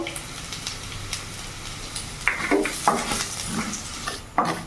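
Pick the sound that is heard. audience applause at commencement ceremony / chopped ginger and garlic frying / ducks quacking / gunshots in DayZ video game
chopped ginger and garlic frying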